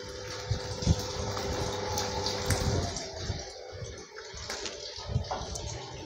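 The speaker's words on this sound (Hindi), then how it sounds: "वाटर इसका इंटेक हो गया ख़त्म, अभी ये पानी नहीं लेगा अंदर" A new 2023 Samsung 7 kg fully automatic washing machine draws water into its drum with a steady rushing flow and faint mechanical hum, close by, broken by a few soft knocks and clicks.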